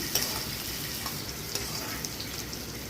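Onions frying with whole spices and poppy seeds for a village-style mutton fry in Nepal, giving a steady, dense sizzle with occasional stirring scrapes and small pops throughout.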